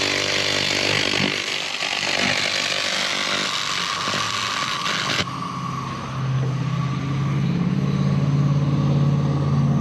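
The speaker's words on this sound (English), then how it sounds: "when you guys hear it not making very much noise there, it means the surface is getting pretty clean there" A 2000W laser cleaning machine working over a grimy aluminum piece gives a loud, steady, harsh buzzing hiss that shifts in tone partway through, heard alone with no voices.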